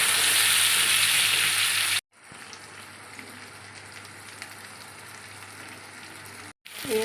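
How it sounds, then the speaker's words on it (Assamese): Pointed gourd and potato pieces deep fry in a pan, giving a loud, bright sizzle that suddenly drops to a softer, steady crackle for several seconds before the louder sizzle briefly returns. "একদম ডিপ ব্ৰাউন ফ্ৰাই নিচিনা কৰি পেলাম"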